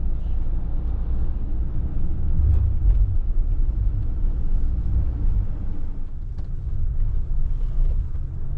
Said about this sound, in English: Definitely driving on the beach now.